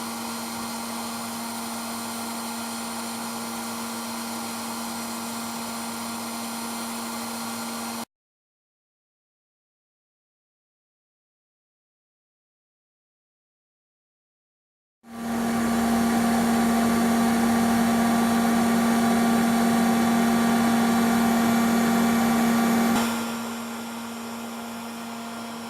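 A 3D printer runs its stepper motors while the hot end travels, giving a steady whirring hum with a strong tonal drone. It cuts out to silence midway, then resumes louder and later drops slightly in level.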